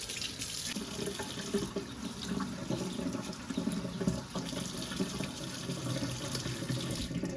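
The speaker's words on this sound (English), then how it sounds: "I'll turn my cold water on and rinse the butter." Cold water runs steadily from a kitchen tap over freshly made butter being rinsed in a sink, a continuous close splashing hiss with no talk.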